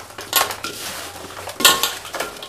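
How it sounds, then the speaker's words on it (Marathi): Homemade pickle being mixed by hand with turmeric in a metal bowl, giving a few bright clinks and scrapes of pieces knocking against the bowl, close and without talk. "हे हाताने हलवून घ्यायचं, कारण की चमच्याने त्याने हलवल्यावर हलवून होत नाही"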